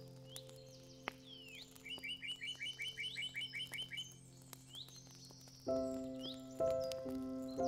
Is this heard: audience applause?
no